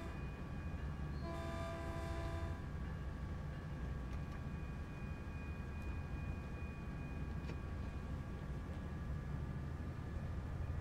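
A Baby Bullet locomotive in Train Sim World sounds a short multi-tone horn blast near the start, then keeps up a steady low rumble of running, with a few faint clicks and no talk.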